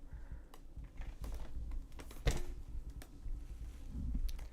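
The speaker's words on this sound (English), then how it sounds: "It's hard typing with one hand." One-handed typing on a computer keyboard during an online chess stream: scattered, faint clicks and taps at an irregular pace, with no talking.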